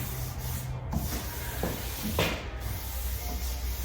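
Hands rubbing and sweeping across the surface of a large wooden table being checked before sanding, soft dry scuffing strokes in a few separate passes, close and quiet with no talk.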